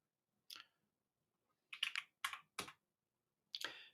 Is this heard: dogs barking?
no